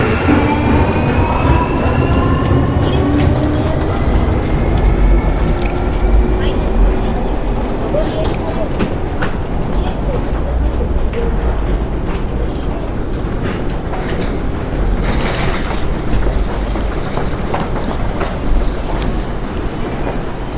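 A subway train rumbles and rattles at Fukuoka Airport station with a continuous, loud broadband roar and faint clicking, while voices murmur underneath.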